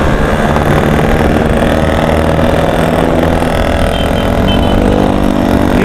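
A small gasoline engine fitted to a converted mountain bike runs loud and close, a steady buzzing drone with a slight waver in pitch throughout and no speech.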